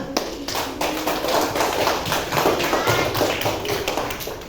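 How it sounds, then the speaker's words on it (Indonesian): A school class claps together in a lively, slightly uneven burst of hand claps, with scattered taps and thumps mixed in, that fills the room for several seconds. "Bagus, tepuk tangan."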